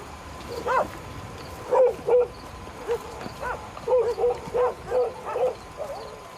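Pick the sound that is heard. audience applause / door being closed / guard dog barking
guard dog barking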